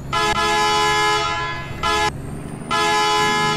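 A Blue Bird bus on a highway near Sabanagrande, Honduras, blasts its loud, brassy horn in three long, close honks separated by short gaps, over the rumble of the road.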